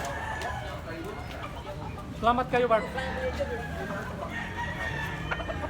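Chickens at a rural market in Consolacion, Cebu, give a brief burst of clucking and crowing-like calls in the middle, under steady crowd noise, while someone speaks nearby.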